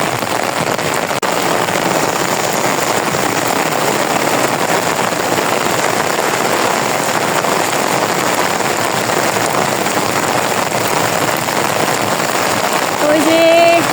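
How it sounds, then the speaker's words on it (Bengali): Heavy rain falls in rural Bengal after a brief lull, a dense, even hiss of downpour hitting surfaces close by, steady and loud throughout, with a short tonal sound near the end. "বৃষ্টি আসছে।"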